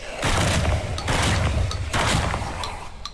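Heavy gunfire from a weapon in the video game Project Silverfish: three loud, booming bursts of rapid shots, each lasting about half a second to a second, close and dominant.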